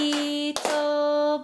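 Hand claps in a Harlem cup game rhythm: two sharp, separate slaps spaced about a second apart, near and crisp over a steady sustained tone.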